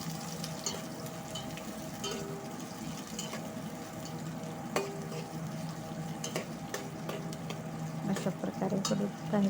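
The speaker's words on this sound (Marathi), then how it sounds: "पातेल्यात तेल टाकलेलं आहे. तेल कडलेलं आहे, त्यामध्ये कांदे टाकले मी." Onions fry in hot oil in a pot with a continuous low sizzle, while a utensil scrapes and clinks against the metal.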